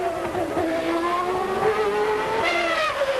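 Formula 1 cars from the 1992 season, Mansell's Williams and Senna's McLaren running nose to tail, their high-revving engines a loud continuous whine with shifting pitch.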